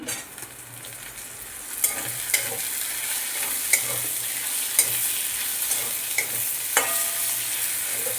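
Okra stir-fried in a pan with onions and chopped jackfruit seeds in fish oil, producing a constant sizzle broken by regular sharp spatula taps and scrapes, close by.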